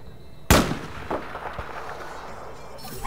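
Single loud rifle shot from a long-distance sniper headshot in a video game, a sharp near crack at the start followed by fainter echoing thumps and low game ambience.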